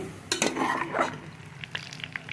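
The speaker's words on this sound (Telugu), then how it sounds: "ఎర్రగా అయ్యేదాకా వేసుకున్నాము కాయలు ఎర్రగా వేగాయి చూడండి" Nuts for a chicken dish frying in a pan, a soft low sizzle with a few stirring scrapes and light clinks, fairly quiet and close.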